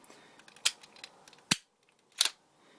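Spring-loaded cannons on a Transformers Classics Jetfire toy fire in three sharp plastic snaps, the middle one loudest, with faint handling clicks between them and no talk.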